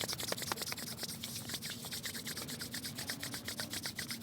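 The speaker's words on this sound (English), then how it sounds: "taking the hands together, palm to palm, and just beginning to rub the palms together" Palms rub together palm to palm in a quiet meditation setting, giving a close, soft, rhythmic swishing friction repeated in quick strokes, with no talking.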